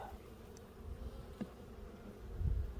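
An open honeybee hive in March, the colony's steady low buzzing hum close by and fairly quiet, with a few louder individual bees passing near, no talking.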